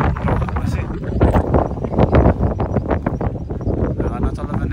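Wind buffets the microphone on the exposed clifftop at Tintagel Castle in Cornwall, England, a steady loud roar with gusting surges throughout.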